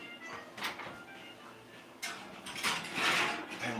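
An oven door swinging shut after a loaf of homemade bread is slid in, heard as a soft mechanical clunk and sliding rattle in a home kitchen, moderately close with no speech.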